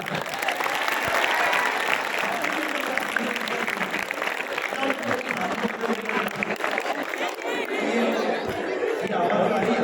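An audience at a spiritual discourse claps in sustained, dense applause for about ten seconds, with murmured chatter and voices mixed underneath.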